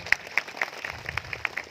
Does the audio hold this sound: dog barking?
no